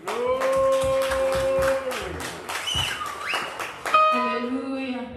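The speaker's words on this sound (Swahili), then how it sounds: "Pigieni Yesu makofi." A church congregation at a Sunday service claps together for Jesus, a rapid steady patter of many hands echoing in the room, mixed with sustained tones and voices calling out over it.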